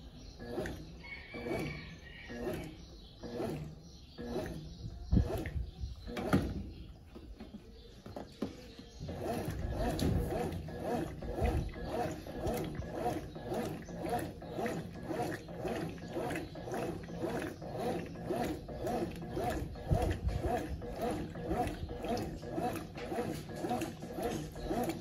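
A Brastemp Ative 9kg washing machine runs its heavy programme without turbo on a load of blankets, giving a steady rhythmic sloshing and churning that grows denser and more continuous after the first few seconds, close and moderately loud.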